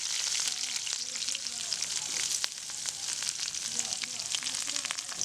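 Chopped onions and garlic fry in oil for a paruppu urundai kuzhambu lentil-ball curry, giving a soft, steady close sizzle with light crackles and brief stirring sounds throughout.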